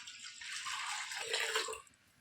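Water poured into a pot while making sweet pongal, a bright splashing gush that swells, shifts in pitch as the level rises, then stops abruptly.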